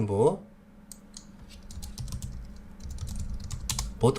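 Mouse clicks tap out in quick close pairs on a desk during spreadsheet-style cost estimating software work, crisp and near, with a voice briefly speaking at the start and end.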